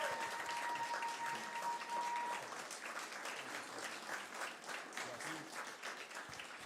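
Crowd at a fashion show keeps up sustained applause, a dense, continuous roar of clapping with a faint tone early on, while voices speak intermittently beneath it.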